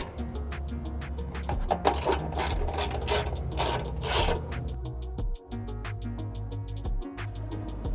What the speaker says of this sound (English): we're gonna go ahead and tighten these down all the way